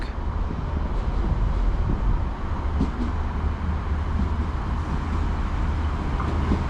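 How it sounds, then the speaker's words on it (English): A train arriving at a station on the Cork line in Ireland rumbles steadily nearby with a low, continuous roar, faint metallic rattles and wind noise over it, and no voices. "This is our train to take us to Cork"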